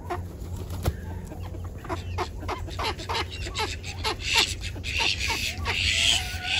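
Naked neck chickens and a Duclay rooster cluck and squawk close by in a Central Florida backyard flock, a busy run of short repeated calls rising in intensity toward the end.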